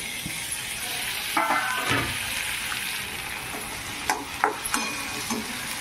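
Carrots and tomatoes hit a pan of frying vermicelli upma, giving a steady soft sizzle with a few sharper clattering stirs and splashes that rise above the background.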